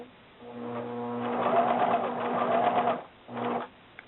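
A sewing machine runs a seam on a jacket, a close, steady mechanical whir for about two and a half seconds, then a short pause and one brief final burst of stitching.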